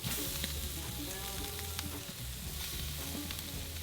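Steak searing right over the hottest part of an open fire on glowing embers, a continuous loud sizzle and crackle with a low rumbling undertone, no talking.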